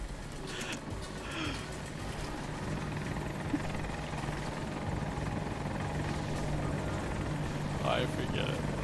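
Constant helicopter rotor noise fills the scene in the video game Battlefield 2042, a loud, even chopping drone, with brief muffled voices now and then under it.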